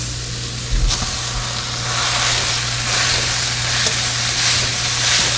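Ground beef sizzles and fries in a hot pan with a little olive oil, a steady broad crackle holding close and fairly loud throughout, with a low hum beneath and a brief clatter near the start.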